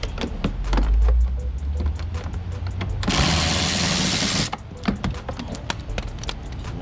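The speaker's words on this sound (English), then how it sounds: "I'll take out those screws." A power driver backing screws out of a BMW 328i bumper, a steady rattling whir with a loud continuous burst midway, surrounded by rapid ticking clicks.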